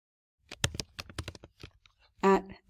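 Quick, uneven clicks of typing on a computer keyboard, a close burst of keystrokes followed by a brief louder rattle, fairly quiet and alone.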